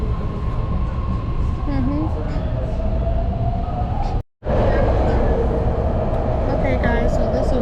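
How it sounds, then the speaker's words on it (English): BART train moving near West Oakland, a loud steady rumble with rising motor whine and rail noise that briefly cuts out before resuming, with people talking over it. "this train will go."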